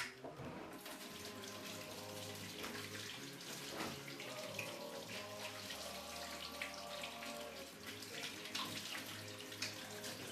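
Water rinses steadily through a dairy milker hose during equipment washing, a continuous rushing flow with a low hum beneath, loud and unbroken throughout.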